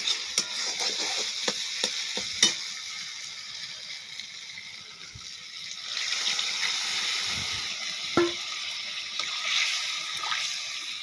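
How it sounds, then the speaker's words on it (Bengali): Warm water poured into a hot wok, a loud steady hissing sizzle with splashing that swells again partway through and carries on throughout, close up with no voices. "এবার আমি দিয়ে দেবো কড়াইয়ে ঢেলে।"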